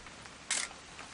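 An old camera's shutter in the video game What Remains of Edith Finch snaps once, a single short crisp click over a quiet background.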